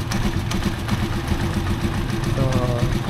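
A Rusi Chariot 175 motorcycle idles close by with a steady, low, pulsing engine chug, and its loose exhaust bracket adds a light rattle throughout.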